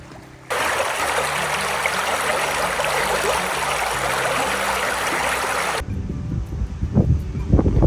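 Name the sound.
Bonanza Creek stream flowing with wind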